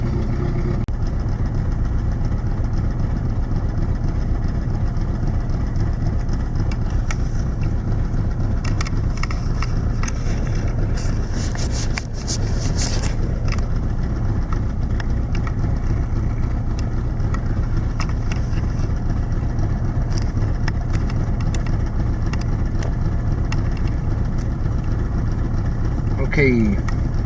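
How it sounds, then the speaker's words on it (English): A 1981 Toyota Tercel engine idling steadily while it warms up, a constant low mechanical drone heard close and unchanging throughout, with a few brief light clicks and rattles over it. "so the car is still warming up"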